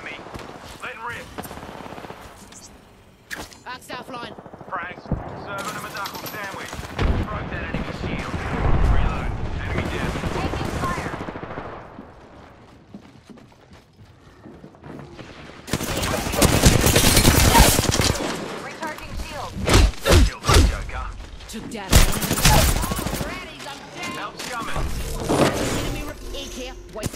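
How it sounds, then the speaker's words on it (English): Gunfire in a shooter video game, bursts of rapid shots and heavy blasts that build to loud, dense volleys in the second half, mixed with game effects and voices talking throughout. "They're shooting at me."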